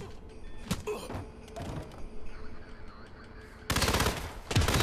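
Gunfire in the video game Hitman: scattered shots and clatter at first, then loud rapid automatic bursts near the end, with no speech.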